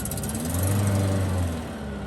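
A car engine running on LPG while driving hums steadily at a moderate level, a low droning tone with a slight rise and fall and no voices.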